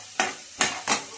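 Onions frying in a hot pan until golden brown, a steady sizzle broken by three loud stirring scrapes at even intervals, close and without any talk.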